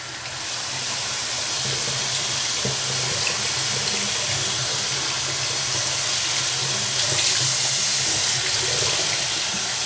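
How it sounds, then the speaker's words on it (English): Warm water poured through LECA clay pebbles in a plant pot to flush out mineral buildup, a steady loud rushing stream, close by and continuous, with no voices. "Just pour, and then we're just going to run it through."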